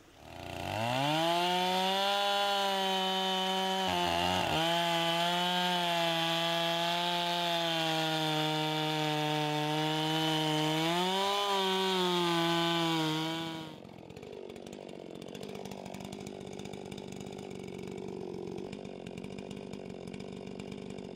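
A chainsaw runs steadily at high revs for about thirteen seconds while felling a tree beside a hydraulic jack and wedge, its pitch dipping briefly near the start, then cuts out, leaving quieter rustling and background noise.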